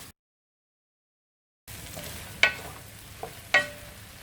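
Mushrooms frying in oil in a pan give a soft, quiet sizzle, broken by a few sharp scraping stirs and clatters.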